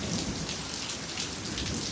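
Steady, dense downpour of heavy rain hissing on surfaces, with a low rumble of thunder rolling underneath throughout.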